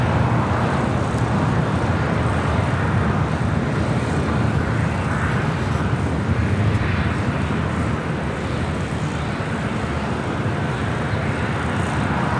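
Airliner taxiing at LAX airport: a steady broadband jet engine roar holds at constant level, near and continuous, without speech.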